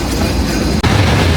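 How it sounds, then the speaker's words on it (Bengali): Steady heavy rumble of the Simanta Express passenger train running on rails at night, close and loud from inside a carriage, broken by one brief clack of the wheels over a rail joint partway through. "সীমান্ত এক্সপ্রেস"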